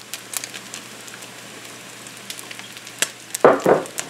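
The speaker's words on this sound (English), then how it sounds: "I'm going to add about a tablespoon or 2 of olive oil" Olive oil sizzles in a pan with crispy bacon, a soft steady crackle close by, followed by a louder burst of spattering near the end.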